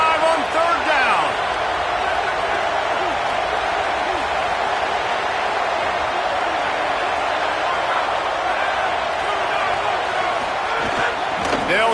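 Dense, steady roar of a stadium crowd at a Buckeyes college football game on third down, loud and continuous throughout with broadcast commentary talking over it.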